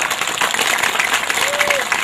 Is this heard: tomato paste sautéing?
no